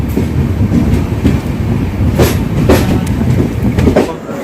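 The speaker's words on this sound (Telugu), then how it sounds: "8 minutes డిలేతో ముజిదాపూర్ జంక్షన్ రైల్వే స్టేషన్ నుండి డిపార్చర్ చూడండి ఫ్రెండ్స్." The Jaipur–Secunderabad Express pulls out of Mujidapur Junction with a steady, loud rumble of wagons and rhythmic wheel clicks over rail joints, heard up close with no voices.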